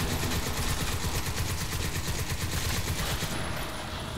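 Dense, continuous heavy gunfire from a big gun in Crysis 2, a loud rapid fusillade of rounds with rumbling low end that keeps going almost the whole time, easing slightly at the end.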